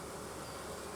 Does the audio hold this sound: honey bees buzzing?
yes